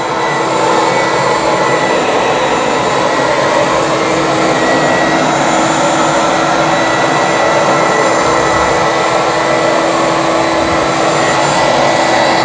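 A Bissell Big Green deep-cleaning carpet cleaner runs steadily with a loud, continuous motor and suction whine, making wet and dry passes over carpet without a break.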